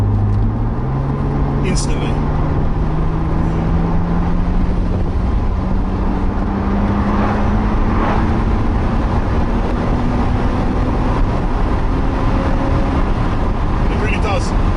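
Engine of a 2007 BMW Z4 E85 roadster after the sport button is pressed, a steady droning hum with a slowly rising tone as it pulls, heard from inside the car with brief speech over it.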